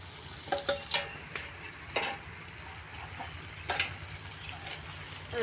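Raw jackfruit pieces fry in hot oil in a pan, giving a steady low sizzle with scattered crackles and pops, moderately close and fairly quiet, with no voices.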